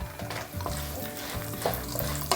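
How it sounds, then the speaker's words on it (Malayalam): Cashew nuts and almonds roast and sizzle in hot oil in a pan, a steady close frying hiss broken by occasional stirring scrapes, with no voices. "ഇതെല്ലാം ഈ എണ്ണയിൽ നന്നായിട്ടൊന്ന് റോസ്റ്റ് ചെയ്തെടുക്കണം."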